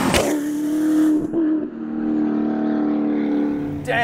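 An Audi R8 twin turbo widebody engine revs hard to redline, a loud, close, sustained roar that climbs and holds for about four seconds, with no talking.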